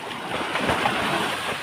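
Large ocean waves churn and crash in a steady, broad roar with strong wind as a typhoon approaches, loud and continuous with no voices.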